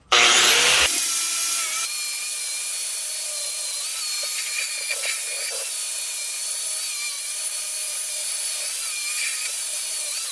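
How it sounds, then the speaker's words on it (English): A Dynafile belt sander deburring a steel blacksmithing quench tank inside and out: a loud burst at the start, then a steady, continuous high-pitched grinding whine that holds nearly level to the end, with no talking. "I'm going to deburr the inside and outside of this with a Dynafile"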